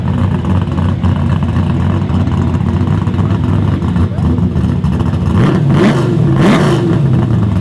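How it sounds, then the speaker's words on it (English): Ford Mustang and Chevy Camaro street cars at a drag racing event: a continuous loud engine rumble with a crowd murmur beneath, building into sharp revving surges toward the end. "So we got a Ford and Chevy battle here."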